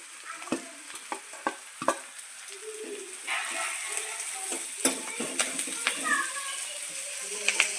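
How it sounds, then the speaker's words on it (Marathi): Carrots go into a frying pan of Indo-Chinese chilli chicken gravy, and a spatula stirs with repeated sharp clacks and taps over a soft sizzle while someone speaks nearby. "यामध्ये आता मी गाजर ॲड करत आहे."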